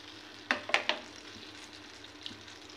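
Chopped garlic and sliced green chillies hitting hot mustard oil, a few sharp crackling bursts early on, then a quieter steady sizzle with an occasional pop.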